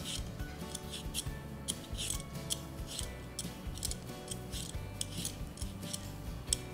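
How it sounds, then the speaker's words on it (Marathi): A medium potato is peeled by hand, giving a steady run of short, rhythmic scraping strokes, close and quiet, with no talk. "एक मध्यम आकाराचा बटाटा घ्यायचा आणि याचं असं साल काढून घ्यायचं"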